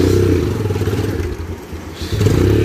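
Auto rickshaw engine running as it is driven on a farm, a loud continuous low motor drone with clattering and scraping, briefly easing off before picking up again.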